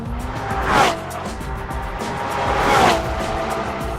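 A 2015 Porsche Cayman GTS in Sport Plus mode revs to 4,000 RPM and launches with the clutch dropped, engine roaring with tire squeal, rising in two loud surges as it accelerates hard.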